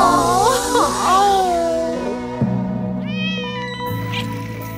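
Several cats meow in quick succession, loud and close, with rising and falling cries that overlap, followed by a few shorter, higher mews.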